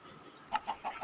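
A chicken in the video game Minecraft gives a few short clucks in quick succession, close and clear over a quiet background.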